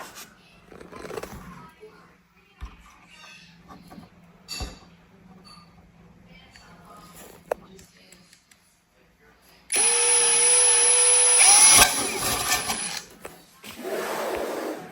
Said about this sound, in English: And then we are drilling a hole